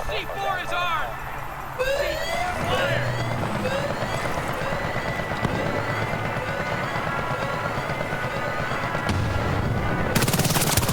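Heavy gunfire in the Battlefield Bad Company 2 video game, with rapid automatic bursts and loud shots crackling nonstop over a dense battle din, a voice talking over the action.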